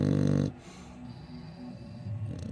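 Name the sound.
dog snoring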